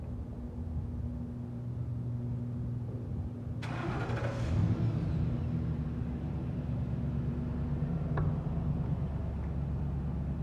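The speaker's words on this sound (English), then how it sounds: "Gonna have Justin go ahead and start it up for us." A carpet cleaning van's engine cranks briefly and catches, then settles into a steady idle that runs on, close by and fairly loud.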